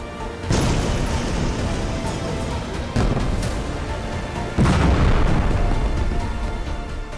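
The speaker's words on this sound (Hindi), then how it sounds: "बेरूत में 200 धमाके, हिजबुल्लाह के अड्डे पर भूकंप।" Explosions in Beirut during Israeli strikes on a Hezbollah base: three heavy, loud broadband blasts, each followed by a sustained rumbling roar that carries into the next.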